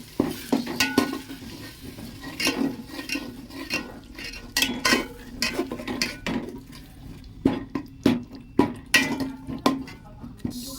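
Cumin powder and spices are mixed in a pan. A spoon scrapes and clinks with a steady, busy rhythm, close and fairly loud, over a faint sizzle.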